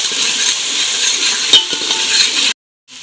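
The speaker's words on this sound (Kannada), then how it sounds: "ಅರಿಶಿನ ಮತ್ತು ಈರುಳ್ಳಿನ ಎಣ್ಣೆಗೆ ಹಾಕಿ ಚೆನ್ನಾಗಿ ಕೆಂಪುಗೆ ಫ್ರೈ ಮಾಡ್ಕೋಬೇಕು" A turmeric and onion paste fries in hot oil for a village-style fish curry, giving a steady close hiss and sizzle with a faint stirring clink, before cutting to sudden silence near the end.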